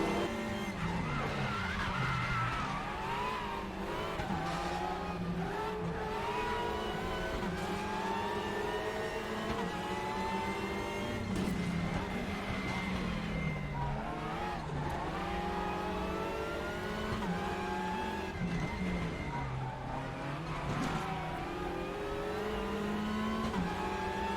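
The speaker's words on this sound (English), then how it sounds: "James Lee still leads this race, but he has got a huge train of cars in behind him" Race cars lapping Macau in the Raceroom video game scream past in a close pack, with engine notes rising and falling through gear changes and repeated tire squeals, loud and continuous throughout.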